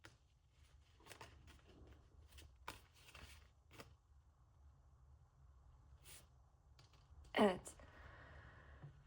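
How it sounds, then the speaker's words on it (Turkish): Tarot cards are drawn and shuffled from a deck in a quiet room, with soft scattered card flicks and handling noises and one sharper snap near the end. "Şuradan kart alalım."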